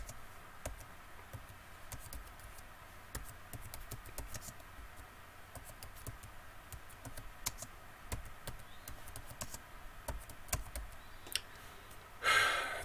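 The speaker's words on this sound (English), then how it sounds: "Let me type that in Google real quick" Someone types on a computer keyboard in quick, irregular bursts of light clicks and taps, close up and steady for several seconds, ending in a sudden louder rustle.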